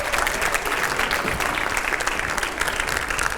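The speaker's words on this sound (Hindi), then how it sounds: "जोरदार तालियां हो जाए।" A TV 9 studio audience gives loud, sustained applause welcoming BJP MP Ravi Kishan, a dense, even wash of clapping throughout.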